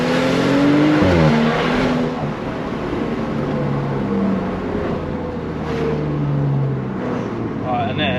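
A BMW M235i with Stage 2+ tuning accelerating in sport mode, loud engine drone rising and shifting through gears from inside the cabin, with someone talking over it.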